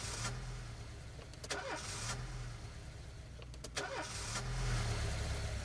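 An old, worn-out car engine in the video game This is the Police cranks and starts, with a mechanical churn repeated twice before settling into a rough, steady idle.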